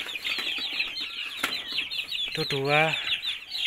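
Young Bangkok chicks about a month old flap their wings and cluck nearby, with a rising burst of cheeping calls near the end over a busy background, and a voice speaks briefly.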